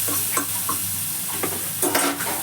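A utensil scrapes and stirs through spices frying in a pan for aloo paratha filling, with several short scraping strokes over a steady hiss.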